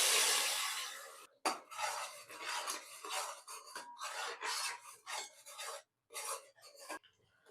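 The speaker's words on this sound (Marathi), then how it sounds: "हे वाटण आपल्याला थोडं तेल सुटेपर्यंत आपल्याला परतून घ्यायचं आहे." Ground spice paste being sautéed and stirred in oil in a pot with a bay leaf, giving steady scraping and rasping strokes of a spoon against the pot, fairly close, in bursts with brief pauses and no talk.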